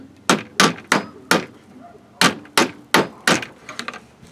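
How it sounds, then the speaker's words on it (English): A hammer taps a car AC desiccant part into place with about a dozen sharp, close knocks in an uneven rhythm, followed by a few lighter taps at the end. "I'm just gonna tap it in there like I did before"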